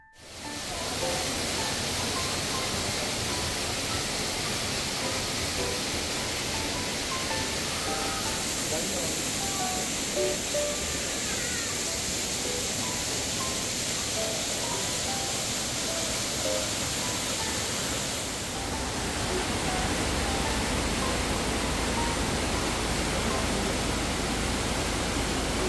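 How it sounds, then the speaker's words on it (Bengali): Rainwater running down rock walls in a cave garden in Cherrapunji during the monsoon, a dense, steady broadband rush and hiss that fills the whole stretch without a break. "পাথরের গা বেয়ে বেয়ে যে জলটা গড়িয়ে পড়ছে সেটা পুরো এরিয়াটাকে একটা স্যাঁতস্যাঁতে ভিজে টাইপের করে রেখে দিয়েছে"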